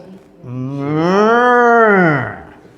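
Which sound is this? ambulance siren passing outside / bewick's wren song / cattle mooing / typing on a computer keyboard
cattle mooing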